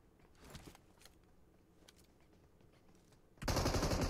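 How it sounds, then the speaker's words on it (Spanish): Gunfire in a PUBG-style shooter game: faint scattered shots and small pops, then a sudden loud burst of rapid automatic fire near the end, close and continuous. "le están disparando izquierda y derecha"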